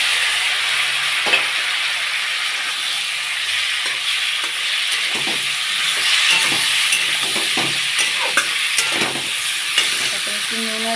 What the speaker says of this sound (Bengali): সর্ষেটা ভাজা হয়ে গেছে, কেটে রাখা আমগুলো দিয়ে দেবো।